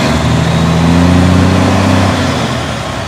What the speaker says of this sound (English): At this point, you can also hear the turbo.